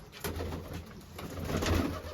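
Pigeons coo softly and repeatedly close by, low throaty calls with no voices over them.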